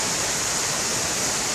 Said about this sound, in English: Never is a downpour like this.